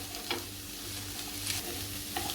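Raw corn kernels cooking in a pan, a steady soft sizzle with a few light scrapes of stirring, close and unbroken, with no voices.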